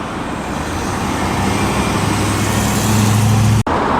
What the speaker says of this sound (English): Classic Range Rover driving by.